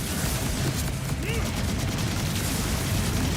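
An incendiary gun in Borderlands 4 firing a dense, continuous burst of game gunfire with booming impacts, loud and unbroken through the clip.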